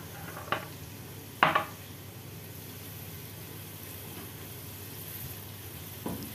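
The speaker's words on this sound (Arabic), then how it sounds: "هنقعد بقى نشوح فيها كده اهوت لحد ما تديها اللون الايه؟ الاصفر الغامق" Vermicelli frying in a pan while being stirred toward a deep golden color: a steady, even sizzling hiss broken by a few sharp scrapes or clinks of the utensil against the pan.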